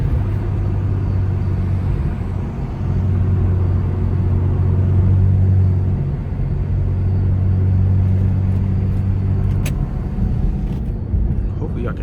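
A straight-piped BMW 335i E92 with the N55 engine drones while driving, a loud, close, steady low rumble holding under someone talking throughout.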